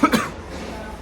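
A man gives two quick, harsh coughs up close, then the sound trails off into quiet room tone.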